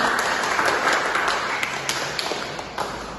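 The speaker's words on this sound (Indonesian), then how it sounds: "Tepuk tangan untuk pemenang." Applause for the winners of a classroom team games tournament, a light, scattered patter of hands from a small group of students, moderately close and gently fading.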